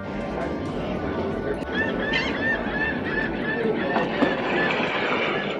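Geese honking in a loud, busy jumble of calls and wavering cries, mixed with a steady background hubbub that may include voices.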